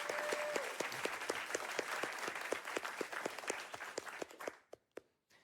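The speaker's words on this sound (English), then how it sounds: "Let's give one more round of applause to CC" Sustained round of crowd applause and clapping at the finale of a gaming charity marathon event, fairly dense, fading out at the end to a few scattered last claps.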